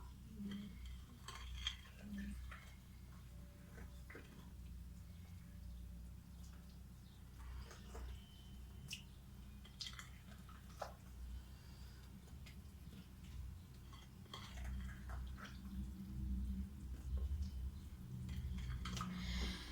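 Chocolate cake batter stirred slowly in a bowl, giving faint, irregular scraping and clinking of a utensil against the bowl over a quiet kitchen background.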